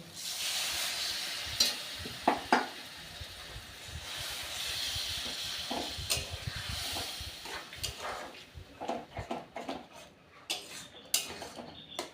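Dried loitya (lote) fish frying with spices in a pan, with a broad steady hiss and sizzle as water goes in, dotted with scattered clinks and scrapes of a utensil against the pan.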